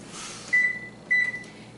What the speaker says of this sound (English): first things I'm gonna do is turn my oven on 350